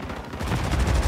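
Dense video game gunfire crackles steadily for about a second, a close, continuous burst of rapid shots with no talk over it.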